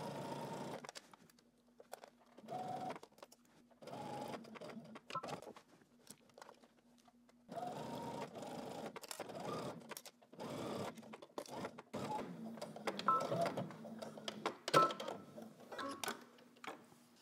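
Sewing machine stitching the facing of a McCall's 8339 dress, running in repeated short bursts with brief pauses between, close and fairly quiet.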